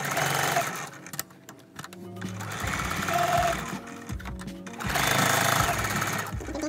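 A sewing machine stitching fabric for a chair cover, running in loud close bursts with short pauses between runs, its fast mechanical rattle dominating throughout.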